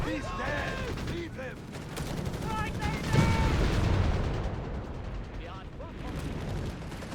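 Company of Heroes 3 battle audio brings rattling gunfire and thumping grenade blasts in a dense, continuous wash of combat noise, partly buried under a caster talking throughout.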